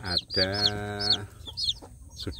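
Young native village chickens in a rearing pen give repeated high peeps and soft clucks in quick bursts, close by, with a low voice-like tone partway through.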